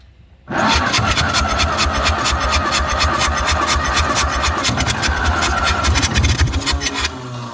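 A 1953 Ferguson TO-30 tractor, started after sitting for 15 years, cranks and catches abruptly, then runs as a loud, close, rapidly pulsing engine for several seconds before easing slightly.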